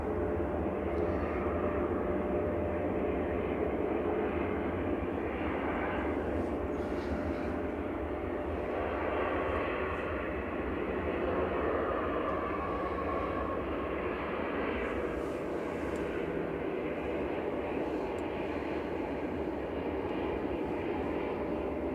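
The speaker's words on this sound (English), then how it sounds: "that was a plane fart." Passenger jet engines roar at Manchester Airport, a loud, steady broadband rumble that holds for over twenty seconds with a slowly shifting whine, heard close and continuous outdoors.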